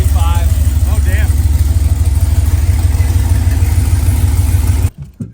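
A 5th-generation Chevrolet Camaro engine runs loud and close with a steady, rumbling idle and a few whistly, rising tones. It cuts off abruptly near the end, leaving brief rustling.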